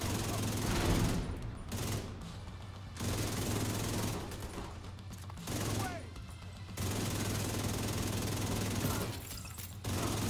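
Assault rifle fire with shock bullets in The Division 2, bursts of rapid automatic shots in several long volleys separated by short pauses, loud and close over a droning game background.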